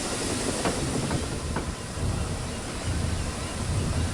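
A diesel locomotive rumbles along in a continuous loud roar with a hissing wash, a few faint clicks over the tracks, close by.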